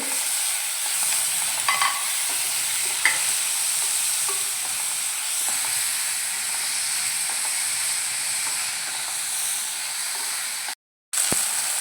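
Chopped tomatoes, two of them, sizzling and frying with lightly browned onions in a pan, a steady close hiss with faint stirring clicks, briefly cut off near the end.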